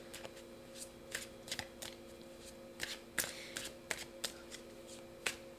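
Tarot cards are shuffled and drawn during a love reading, producing crisp, close riffling bursts and sharp snapping flicks at an irregular rhythm, with no speech over them.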